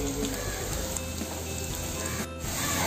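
Ground turmeric sautéing in oil in a pan over low gas, a constant dense sizzle with a brief dip near the end.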